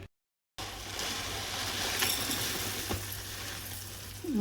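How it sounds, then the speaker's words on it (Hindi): Muesli poured into a bowl sitting on a kitchen scale gives a steady, dry rustling patter that runs unbroken for about four seconds after a short silence, fairly close and with no voices. "अब हम इसमें म्यूसली डालेंगे 100 ग्राम।"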